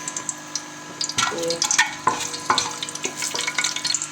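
Half a teaspoon of fenugreek seeds sizzles in a little oil in a pan, a soft crackle with scattered pops and stirring clicks, close and fairly quiet, with no talking.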